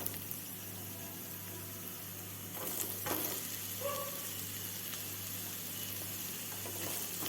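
Tomatoes fry with well-fried onions in a pan, a steady soft sizzle with a brief stirring scrape and light bubbling partway through, fairly quiet and close.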